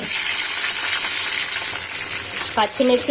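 Green chillies fry in hot oil for tomato chutney, giving a steady bright sizzling hiss close up, with a voice briefly speaking over it at the end.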